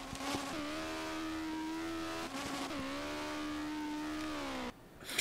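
Race car engine in the video game Street Legal Racing Redline, revving hard and climbing in pitch through two gear changes before cutting off abruptly near the end, loud and continuous with no talk.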